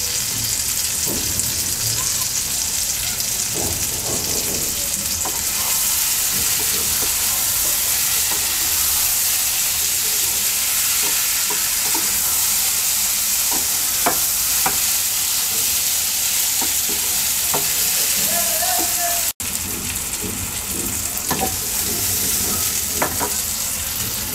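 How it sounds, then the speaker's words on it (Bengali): Puti fish curry with tomato and chopped coriander sizzling steadily in a pan while a spoon stirs it, with scraping clinks scattered through a continuous frying hiss. "এবার আমরা ধনে পাতা কুচি দিয়ে নেড়ে ছেড়ে নামিয়ে নেবো"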